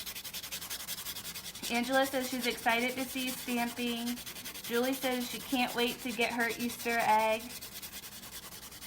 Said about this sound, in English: so she's going to go ahead and buff.